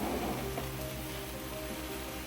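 Marinated food cooking on high heat in a pan, a steady dense sizzle close by, continuous and fairly loud with no talk.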